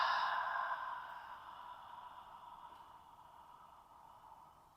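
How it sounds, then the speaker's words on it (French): A long, soft breath is released through the mouth during a gentle yoga breathing exercise, a breathy airy exhale that starts fuller and steadily fades away over several seconds, close and quiet with no talking. "on inspire par les nez. Expire par la bouche."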